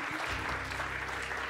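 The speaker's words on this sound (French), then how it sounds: "je voudrais qu'on puisse les applaudir à eux même s'ils ne sont pas là" Audience applause in a church, a steady dense wash of clapping that fills the short moment from start to finish with no pause.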